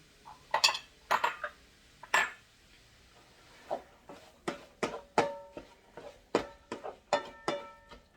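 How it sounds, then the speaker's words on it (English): Cooking in a kitchen, with repeated sharp clinks and scrapes of a utensil against a pan as carrots are added to nearly cooked sausage, irregular and moderately close with no talking. "at this point the sausage is almost cooked, so I'm going to go ahead and add the carrots in there"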